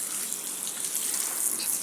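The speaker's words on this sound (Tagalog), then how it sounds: "Dilig-diligan natin ang ating mga pananim." A hose sprays water over garden plants and soil in a steady, hissing, fairly close stream with no talk.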